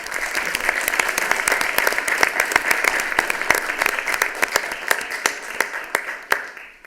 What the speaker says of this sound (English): let's clap for all of them also